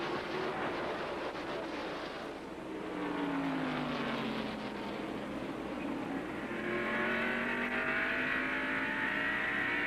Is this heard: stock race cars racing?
yes